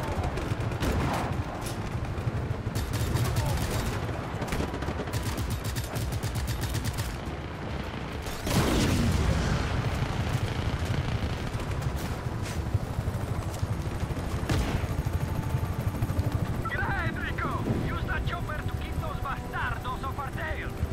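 Gunfire rattles in Just Cause 3 as shots are fired at Mario's truck, with sustained bursts and booms across a long chaotic stretch of game action while a voice talks over it.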